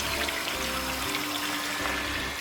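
Water rushes steadily through a filter tank during the backwash rinse stage of an air-scouring water filter service, a constant dense hiss and gurgle with no voices.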